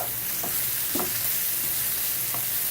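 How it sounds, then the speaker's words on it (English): Pork chops sizzle steadily in a frying pan while being stirred, with a few soft scraping strokes over a constant, close frying hiss. "And I stir"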